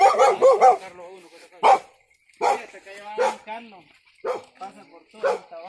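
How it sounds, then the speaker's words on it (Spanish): A dog barks several times, close and loud, in short bursts mixed with yips. People talk over and between the barks. "Y nos va a morder ese perro al rato."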